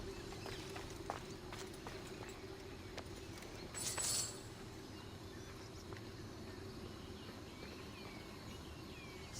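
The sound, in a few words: horse sounds in Assassin's Creed Odyssey video game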